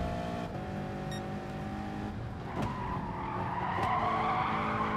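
A race car in the GT Sport driving game skids off the track after missing a braking zone, its tyres squealing in a rising screech over the engine's steady drone, loud and continuous.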